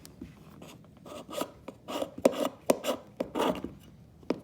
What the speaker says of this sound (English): Let's scrape some of that off